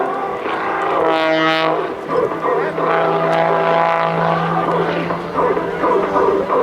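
A Pitts S2B aerobatic biplane performing rolls and snap rolls at the 2006 NAS Willow Grove airshow fills the air with a loud, droning propeller engine whose pitch rises and falls as it maneuvers.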